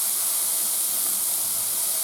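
Peas tipped into a large hot wok for chicken fried rice give a loud, continuous hissing sizzle that holds steady throughout, with no talking.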